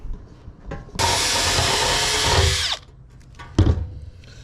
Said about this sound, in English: gonna drill it in